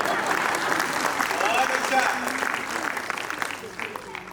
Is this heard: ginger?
no